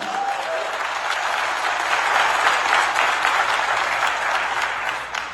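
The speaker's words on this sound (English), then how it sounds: "Applaud for them, right?" An audience at a BLEXIT convention speech claps in a thick, sustained round of applause that stays loud and even throughout.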